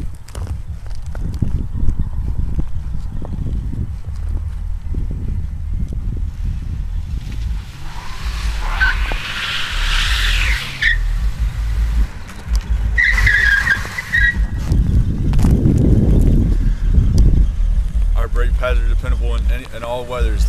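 A car brakes hard and skids during a brake pad test, with two bursts of tyre squeal over steady engine and road rumble, then a low heavy rumble near the end.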